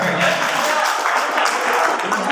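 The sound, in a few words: applause at a school meeting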